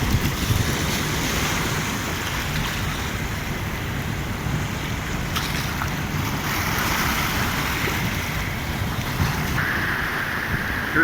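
Powerful Black Sea surf pounds the shore at Tuapse, a dense continuous roar of breaking waves with wind buffeting the microphone throughout, loud and close with no voices.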